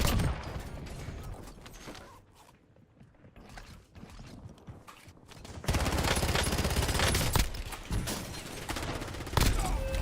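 Gunfire in the Warzone video game: rapid bursts of automatic fire and weapon handling clicks, quieter for a stretch before louder sustained shooting returns, with a brief spoken moment.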